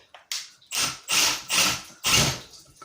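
A DeWalt flex shaft right angle attachment drives a screw into wood with no pre-drilled hole, giving five close, loud bursts of whirring and grinding, each lasting about half a second, separated by brief pauses.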